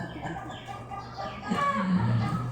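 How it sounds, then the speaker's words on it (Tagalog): A chicken clucks close by in a few short, bursty calls over roughly two and a half seconds, with faint background noise beneath. "Gawali man ang manok."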